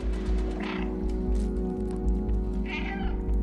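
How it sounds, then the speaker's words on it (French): A cat meows twice in the video game Stray, clear and close, the two calls about two seconds apart over a steady low game hum. "Miauler, c'est pour savoir à peu près dans quelle direction aller."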